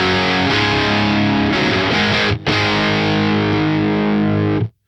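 An electric guitar runs through a Warpig distortion pedal with a noise gate, producing a thick, saturated, sustained chord with a dense fuzzy hiss. It dips briefly once before the sound is cut off sharply by the gate.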